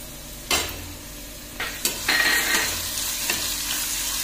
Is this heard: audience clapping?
no